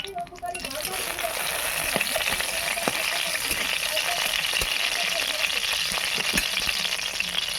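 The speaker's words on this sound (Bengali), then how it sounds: "শাকটা ভাজবো।" Boiled hinche shak (leafy greens) frying in a pan, a steady close broadband sizzle with occasional clinks and scrapes of stirring, loud and continuous throughout.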